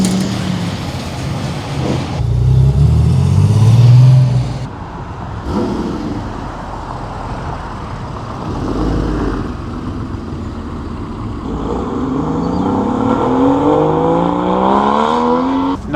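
Porsche 964 Turbo on a street at a Melbourne cars and coffee gathering revs and pulls away, engine rising loud and close in bursts then fading amid surrounding traffic noise.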